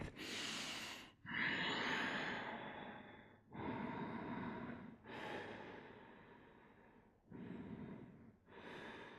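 Slow, deep breaths during a yoga plank class, five or six long inhales and exhales in a steady rhythm, close and clear with no talking.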